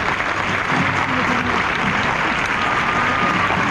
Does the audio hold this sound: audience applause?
yes